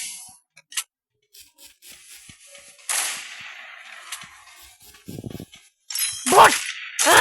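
Sniper rifle shots in a video game, a few sharp bursts spaced apart with faint game noise between them, the loudest cluster coming near the end.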